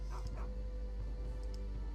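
K9 scout dog in the strategy game Empire Earth giving a couple of short yips and barks over a steady low game hum, fairly faint and brief.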